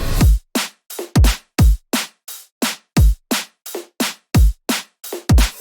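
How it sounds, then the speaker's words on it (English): Drum and bass drum loop with kicks, snares, hi-hats and a reverse hat, played as a fast, punchy rhythmic pattern of sharp separated hits, loud and dry with no talk over it. "Altogether, the drums sound like this."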